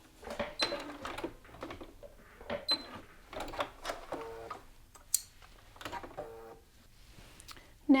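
Sewing machine stitching a garment lapel down to the lower edge, heard as short bursts of close mechanical whirring and ticking broken by pauses and handling clatter.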